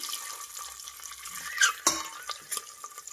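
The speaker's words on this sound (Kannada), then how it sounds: "ಮೀಡಿಯಂ ಫ್ಲೇಮಲ್ಲೇ ಇಟ್ಟು ನಾವು ಇದನ್ನು ಫ್ರೈ ಮಾಡಬೇಕಾಗುತ್ತೆ ಮೊಟ್ಟೆನ" Four quartered eggs frying lightly in a pan over medium flame for egg donne biryani, with soft stirring clatter and a couple of sharp utensil clicks, no talk.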